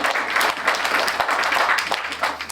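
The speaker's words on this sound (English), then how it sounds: "So give a round of applause" Steady applause from a seated audience at a health festival talk, a dense, moderately loud patter of many hands clapping with a few louder claps.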